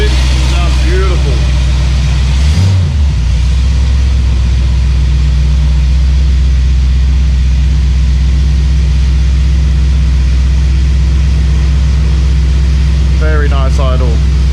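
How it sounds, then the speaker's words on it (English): A freshly installed Ford 302 Windsor V8 idles in a 1971 Ranchero, a loud, steady, deep rumble that stays close and even throughout. "Very nice idle."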